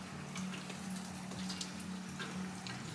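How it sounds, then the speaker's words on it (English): Heavy rain falling outdoors, a faint steady patter of scattered drops under a low constant hum. "It's raining a lot right now."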